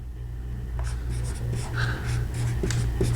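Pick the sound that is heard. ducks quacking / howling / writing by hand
writing by hand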